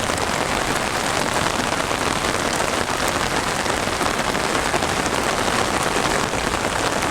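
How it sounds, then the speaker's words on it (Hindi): Heavy rain pours steadily on a beach, drumming close on an umbrella overhead in a dense, unbroken wash of sound with no voices. "जोरदार बारिश हो रही है ना, I am under an umbrella, इस वजह से कैमरा भीग नहीं रहा है।"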